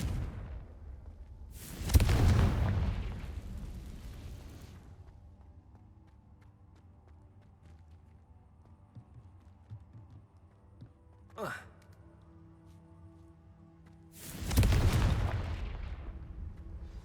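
Explosive spell blasts in Hogwarts Legacy, two loud bursts several seconds apart with a sharp, brief effect between them; a quiet game ambience fills the gaps.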